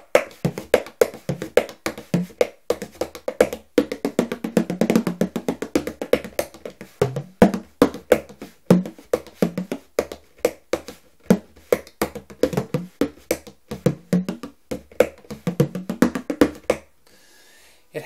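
A hand strikes a drum skin again and again, giving a clean, slightly compressed knocking tone with some sustain. The hits come in fast, uneven rhythmic bursts, close and fairly loud, and stop near the end.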